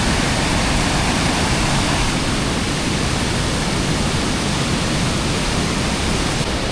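Tad Maloed waterfall in Laos roars as a steady, loud broadband rush of falling water, unbroken and close, with no voices or other sounds standing out.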